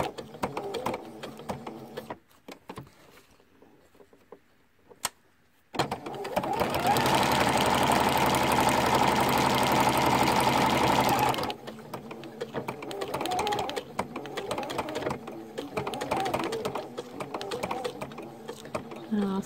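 A sewing machine stitches lace onto coin envelopes in a loud, fast, steady whirring run of several seconds. Handling noises and a quiet pause come before it, and it slows to softer, intermittent stitching as a voice talks.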